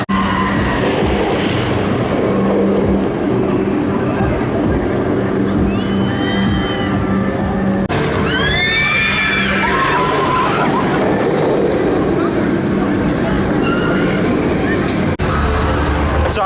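A roller coaster ride at Thorpe Park roars loudly and steadily throughout, with shrill wheel screeches rising around the middle and a faint crowd murmur beneath the rumble.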